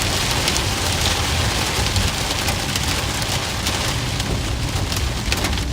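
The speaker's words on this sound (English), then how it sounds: "Here's the hail." Small hail pelting a vehicle during a tornado-producing storm in Oklahoma, a dense, steady roar of hard pattering that stays loud and unbroken throughout, with no voices.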